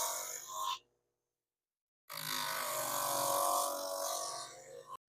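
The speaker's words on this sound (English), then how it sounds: "come over to the sander. And we're going to lightly sand it" An electric sander lightly sanding a leather knife sheath, buzzing loudly and close in two bursts: a short one that cuts off, then about a second of silence, then a longer steady run that stops abruptly.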